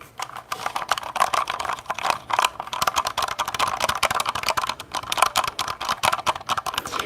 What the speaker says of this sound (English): I'm going to unplug my keyboard here and I'm going to tap on it